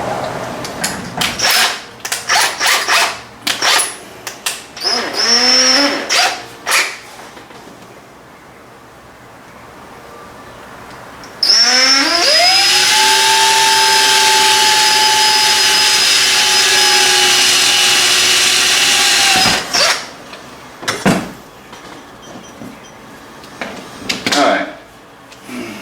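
A power drill with a bit slightly larger than 5mm whirs steadily for several seconds, bracketed by short bursts of drilling and handling clatter before and after.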